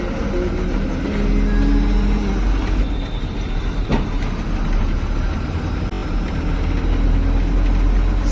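A road vehicle approaching on a hazy morning road, a steady loud engine rumble and road noise that holds throughout, close and unbroken, with no voices.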